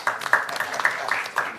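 Applause at a press conference on the May 18 uprising. A modest audience claps close by in brief, uneven bursts of distinct hand claps that rise and dip over a short stretch.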